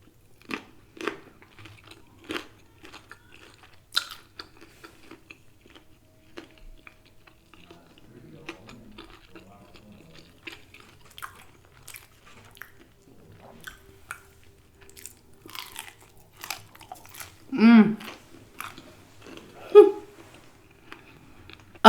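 Someone bites into and chews a Popeyes chicken sandwich eaten without sauce, giving soft crunches and wet chewing at irregular intervals. Louder bites come near the end, with brief murmurs between them.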